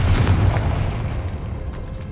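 A single Confringo explosive spell blast booms in the Hogwarts Legacy video game, a loud deep burst that rumbles and slowly fades over about two seconds.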